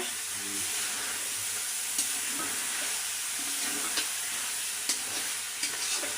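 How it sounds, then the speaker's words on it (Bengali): Taro and stinging catfish (shing) curry frying down in a pan until the gravy dries, a steady, even sizzle with soft stirring scrapes and no talking. "আরও একটু ভাজা ভাজা করে নেব এই ঝোলটা শুকায় যাবে একবারেই"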